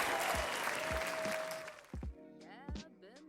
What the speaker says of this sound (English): Thank you for the clapping and cheering, Mikey.